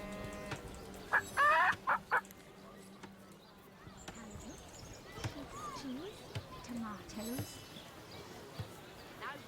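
A chicken clucking in the video game Divinity: Original Sin, with a few short, close clucks early on over background game ambience, followed by softer bird-like calls while a voice talks over the scene.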